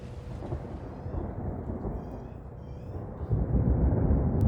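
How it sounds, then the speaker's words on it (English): Deep thunder rumbles through a storm, low and rolling, building to a heavier, louder roll near the end, with a faint wash of rain-like noise and no talk. "All the thunder."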